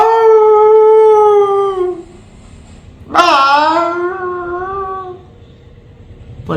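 A performer vocally imitates a dog howling: two long, wavering howls, the second rising sharply and then sliding down, with a brief pause between them.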